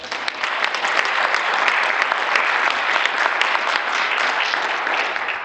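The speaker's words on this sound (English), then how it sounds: "Let's give her a round of applause." Audience at a university farewell ceremony applauding a speaker, a dense, loud and sustained wash of clapping from many hands, with no voices over it.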